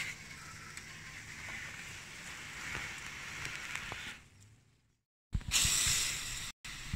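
Water sprayed around a rabbit enclosure during a heatwave, a broad steady hiss for several seconds, then a short pause and a louder, closer burst of spray that cuts off abruptly.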